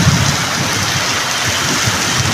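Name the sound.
heavy continuous rain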